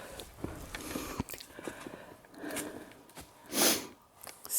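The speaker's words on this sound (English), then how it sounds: "Excuse the sniffing" A person sniffs repeatedly outdoors at a snowy slate quarry in winter, with short nasal bursts close to the microphone, the loudest one a strong snort near the end.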